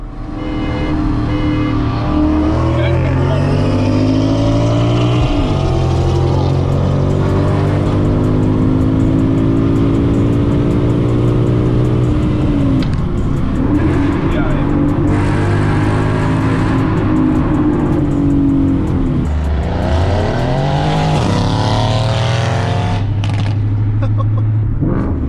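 A Ford Mustang GT 5.0 S550 with an aftermarket exhaust drives on the road, its V8 revving up and down through repeated gear changes, loud and close with a deep burbling exhaust note.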